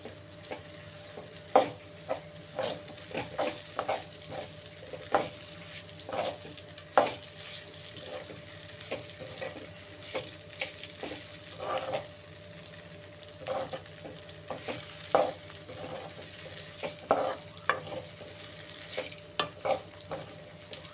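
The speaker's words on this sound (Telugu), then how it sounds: "ఇలా వేయించుకొని ఒక 5 నిమిషాలు వేయించుకోవాలి." Idli pieces being stir-fried with chilli powder in a hot pan, with a steady sizzle and frequent scraping and stirring clinks of a spatula against the metal at an irregular rhythm, close and fairly loud, with no talking.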